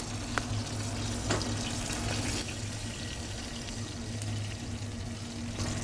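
Chicken thighs sizzle over a kettle grill, skin side down, a steady broadband crackle and hiss with a low hum beneath and a few sharper pops scattered through.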